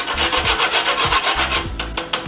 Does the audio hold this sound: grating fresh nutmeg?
yes